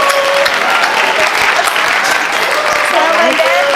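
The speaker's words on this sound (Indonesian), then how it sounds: "Tepuk tangan buat beliau" Audience applause welcoming a guest speaker at an event, steady loud clapping with whoops and voices running through it.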